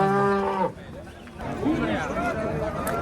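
A young cow at a busy livestock market lets out one long, loud moo at the start, followed by crowd chatter and someone speaking over the market noise.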